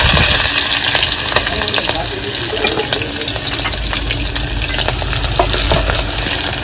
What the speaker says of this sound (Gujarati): તેલ આવી ગયું છે ને નાખી દઈ જીરું અને હવે નાખી દઈએ લસણ ને મરચું